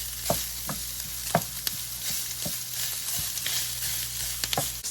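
Sausage sears and browns in a single pan for a cabbage dinner, a steady close sizzle with occasional scraping stirs and spatula taps, no talking.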